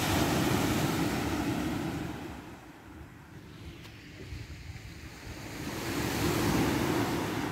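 Morning sea waves break and wash steadily along the shore, a broad rushing surge that swells, eases and builds again, with wind noise buffeting the microphone.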